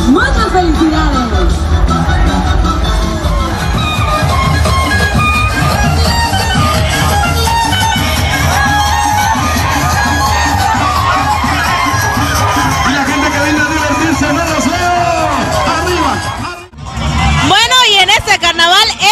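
Carnival crowd at the Carnaval Martínez de la Torre 2017 in Mexico, a comparsa dance parade, roaring loud and continuous with cheering, shouting children and babble close by, dipping briefly near the end before surging back.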